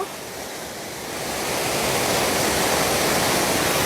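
Rushing water at the sixth tier of the Nine-Tier Waterfall, Suan Phueng, Ratchaburi, swells from a softer hiss into a full, close, steady roar that continues without talk.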